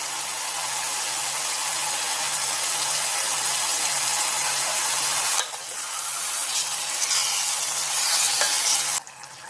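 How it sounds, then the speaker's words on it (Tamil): Chicken simmers with salt and masala in a pan, giving a steady, dense sizzle that runs throughout, with scraping stirs and a brief dip in intensity partway through. "இந்த மசாலாவோட இந்த சிக்கனை வேக விட்டுருவோம்"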